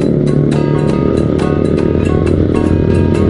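A loud motorcycle with an open exhaust pipe rides just ahead on a road in San Fabian, its engine roaring steadily and close, with no talking over it.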